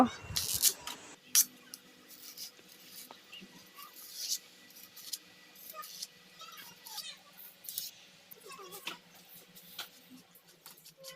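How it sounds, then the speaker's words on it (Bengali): Ari kochu (taro stems) with their leaves are chopped finely, giving quiet, irregular knife taps and crisp cuts at close range, with a few louder strikes at the start. "এখন আড়ি কচুর খোসাগুলো ভালো করে পরিষ্কার করে পাতা সহ কুচি কুচি করে কেটে নেব"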